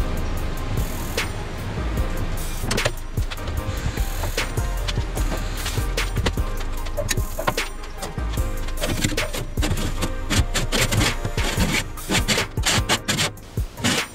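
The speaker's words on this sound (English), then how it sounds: "we want to begin to scrape and clean the drip pan of the grill" Metal scraper rasping across the drip pan of a GMG Jim Bowie pellet grill during competition BBQ prep, a dense, continuous run of close, loud scraping strokes with sharp bursts throughout.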